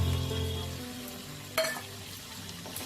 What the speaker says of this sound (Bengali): এবার আমি এতে ভেজে রাখা আলু আর ডিমটা দিয়ে দেবো